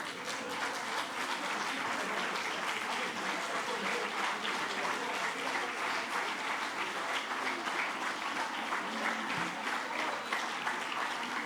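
Sustained audience applause at an evaluation conference as participants from Africa stand, a dense, even wash of many hands clapping for the whole stretch without break.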